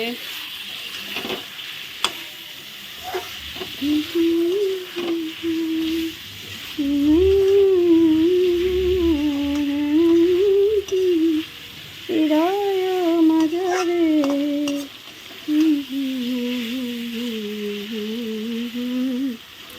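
Potatoes and spices sautéing in a pan with cauliflower nearby make a steady close sizzle with stirring scrapes, heard under a voice talking through most of the stretch.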